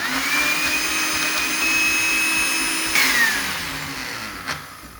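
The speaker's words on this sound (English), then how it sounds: "What we're going to do now is we're going to blend it." A blender whirs loudly at close range through a Minecraft-themed drink mixture, its motor pitch steady and then dropping briefly near the end, with no speech.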